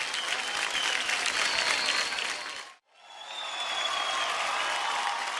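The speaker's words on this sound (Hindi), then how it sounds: "एक बार जोरदार तालियां हो जाए" Loud applause from a studio audience on a televised singing competition, dense and sustained, dipping briefly to near silence midway before swelling back up just as strongly.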